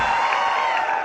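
Audience applause in a comedy show, a dense continuous wash of clapping from a crowd, steady and fairly loud throughout the short moment, with no voice on top.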